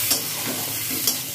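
Cashews and raisins fry in a pan, a steady low sizzle with two brief scraping stirs near the start and end of a short moment.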